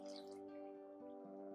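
Soaked rice being drained of its water in a kitchen, a brief close run of dripping and trickling liquid, quiet and alone.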